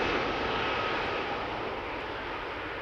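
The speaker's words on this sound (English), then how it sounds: "EasyJet coming in." An EasyJet airliner on approach to land at Amsterdam Schiphol roars as a steady, broad jet-engine rush, loud and sustained with no voices over it.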